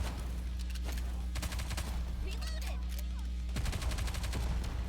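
Rapid automatic gunfire from a video game shooter rattles in dense bursts over a steady game soundscape, with a short lull in the middle before the firing picks up again, while a voice talks faintly underneath.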